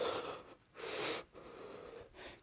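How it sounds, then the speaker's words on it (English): Heavy, ragged breathing in long bursts, several strained inhales and exhales rising and falling close by, wheezy and breathy, with no talking. "Deku's breathing gets heavier."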